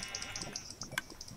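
Sheep bleat in the video game Minecraft, a few quick faint bleats in a short burst, over soft background noise.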